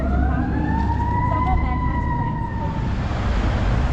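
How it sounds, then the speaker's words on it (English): An emergency vehicle siren wails in long rising and falling sweeps over city traffic rumble in the centre of Lancaster, moderately distant and fading toward the end. "There's so many sirens today."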